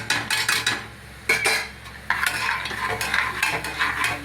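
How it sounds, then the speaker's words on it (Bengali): Cumin, chilli powder and turmeric are tipped into a hot pan and stirred, giving a soft sizzle under repeated scraping and clinking of a utensil against the pan, close and fairly loud. "এইবার দিয়ে দেবো যা মশলা আছে, সমস্ত মশলা, জিরে, লঙ্কার গুঁড়ো, হলুদ গুঁড়ো দিয়ে দিলাম"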